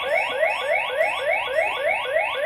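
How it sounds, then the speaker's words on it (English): A loud electronic home security system alarm (X-Sense) wails continuously, rising sweeps repeating rapidly in a steady pattern, close and piercing. "And the alarm goes off."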